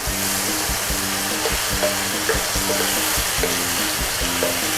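Chicken breast and bell peppers stir-fry in a hot pan, giving a steady loud sizzle with a regular scraping rhythm of a spatula tossing the food, close up and continuous with no voices.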